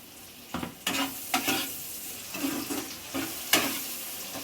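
Spice paste with poppy seed and cashew sizzling in a pan while being stirred for Bengali potol chingri, with repeated scraping strokes over a steady low fry, fairly close and with no talking.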